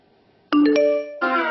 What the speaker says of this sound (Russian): Короткий звук, и рука уже непроизвольно тянется к телефону.